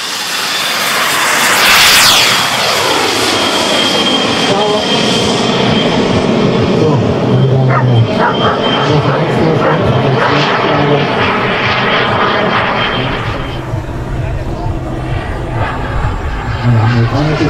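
A radio-controlled model jet flies overhead at an RC jet flying day in Pocking, its loud turbine whine sweeping past with a falling pitch and then droning on in the distance.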